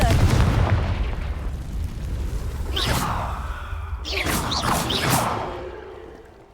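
A Confringo fire spell in the video game Hogwarts Legacy: a loud rushing blast at the start, then further crackling bursts and a rumbling explosion that fades out, all heard without talk.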